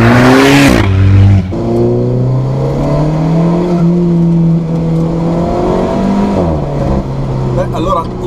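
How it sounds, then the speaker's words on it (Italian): Alfa Romeo 4C turbo engine on a test drive, loud in-cabin drone with clear rising and falling revs through gear changes, accompanied by a voice talking over the engine. "il motore sicuramente va forte"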